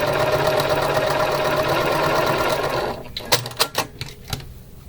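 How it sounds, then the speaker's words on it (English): Sewing machine stitching quilt pieces together for a Valentine mystery quilt, a steady close mechanical whir for about three seconds that stops, followed by several sharp clicks and taps. "Now I'm going to sew all of these together before I iron"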